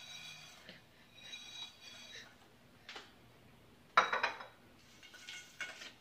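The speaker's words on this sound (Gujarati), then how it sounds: "પછી એમાં આપણે રોસ્ટ કરેલી મેગી એડ કરી દઈએ." Roasted Maggi noodles tipped into a bowl of Maggi bhel, producing a few soft clinks and a louder burst of rattling against the bowl near the end, with faint kitchen clatter between.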